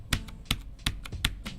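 Clacky-style mechanical keyboard switches typed on in a handful of sharp, evenly spaced keystrokes, close and fairly quiet, with no talking.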